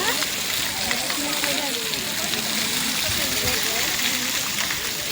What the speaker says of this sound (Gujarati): ગોવર્ધનમાંથી પર્વતમાંથી પાણી આવ્યું.